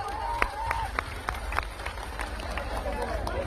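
Crowd at a Banjara community gathering clapping in scattered, uneven bursts over a steady murmur of voices, with a voice carrying above the noise.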